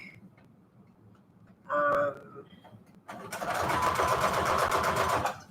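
A sewing machine stitches through heavyweight index cards in a fast, even whirring burst after a few brief clicks and a short knock, fairly close and steady for about two seconds.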